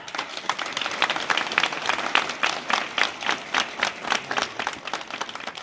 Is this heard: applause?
yes